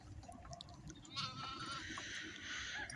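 A lamb standing in the sun and its mother sheep in a village pen near Kepez, Antalya, give several short, wavering bleats over a rough background rumble, fairly close by.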